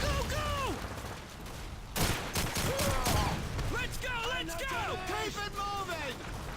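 Scattered gunfire in the video game Call of Duty 2 pops amid a busy battle din, with sharp shots clustered midway while someone talks over much of it.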